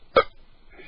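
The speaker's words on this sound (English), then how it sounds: "Beer number 1, burp number 1." A single short, abrupt burp after drinking beer, close and fairly loud, followed by quiet.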